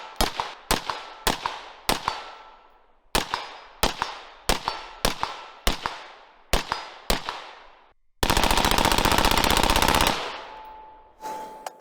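Suppressed 5.56 NATO rifle, an 11.5-inch Type A Rifles upper fitted with a BOE MOD1S suppressor with ported end cap, fires about a dozen sharp close shots in an uneven string, each with a short ringing tail, before a loud sustained hiss.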